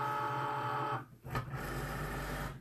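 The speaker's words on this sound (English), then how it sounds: "You'll go ahead and feed your... That's cool. Yeah, it is cool. Your vinyl into your machine." A vinyl cutting machine hums steadily as vinyl on a cutting mat is fed into it, a close motor whir that dips briefly, gives a short clunk, then resumes at a lower hum.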